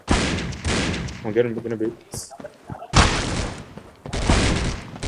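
Bursts of AK rifle fire in the Critical Ops shooter game, loud and close, in a few separate volleys broken by short gaps, with a player talking over them.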